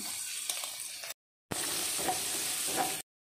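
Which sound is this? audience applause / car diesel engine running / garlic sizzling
garlic sizzling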